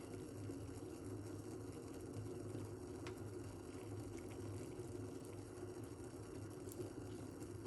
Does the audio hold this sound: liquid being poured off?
yes